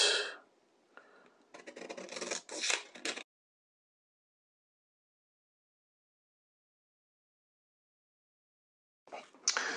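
Scissors cut through folded paper for a folded shirt yoke pattern, producing a few close, crisp rasping snips. After a long silence, a short burst of cutting follows.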